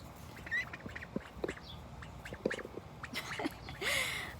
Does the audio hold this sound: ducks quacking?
yes